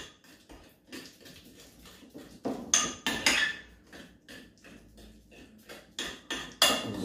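Ingredients are mixed with oil in a pan for a Turkish dish, making irregular close scrapes, taps and clatters of a utensil against the pan that grow louder at times, with no talking.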